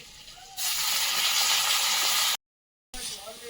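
Water poured into a pan of large-cut onions and diced ginger frying in hot oil sets off a loud, steady sizzling hiss that cuts off abruptly and then resumes more quietly.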